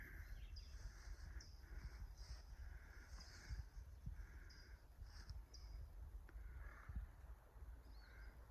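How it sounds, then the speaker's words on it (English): Crows caw in the trees along a woodland trail in late summer: repeated harsh calls at moderate distance, fairly faint, over a constant low rumble of wind. "Crows up in the trees."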